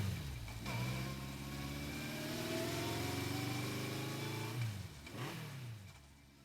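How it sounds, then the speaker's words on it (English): A motorcycle taking off in the Steins;Gate 0 video game, its engine rising in pitch and revving up strongly, holding a steady drone, then shifting down and revving again before fading. "She took off on her motorcycle."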